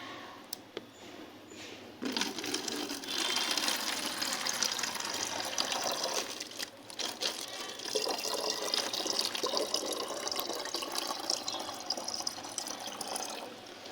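Water splashes and gurgles steadily for several seconds as it is poured into a bottle, a continuous rushing stream with no voices.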